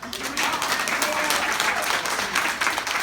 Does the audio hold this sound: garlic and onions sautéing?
no